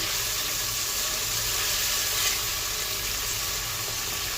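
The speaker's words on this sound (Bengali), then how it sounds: "হাফ চা চামচ আদা বাটা, হাফ চা চামচ জিরে বাটা দিয়ে ভালো করে মশলাটা ভেজে নেব" Ginger and cumin paste frying in a pan of hot oil, a steady, even sizzle that holds for several seconds with no talking.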